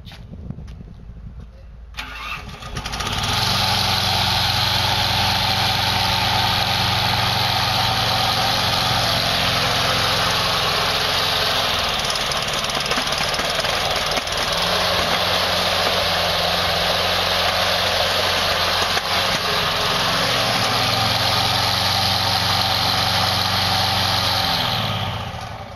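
A hybrid tracked robotic lawn mower, a 22D 2011 model, starts up and its engine runs loud and steady close by for over twenty seconds, with the tone shifting slightly as the torque changes.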